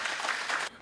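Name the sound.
applause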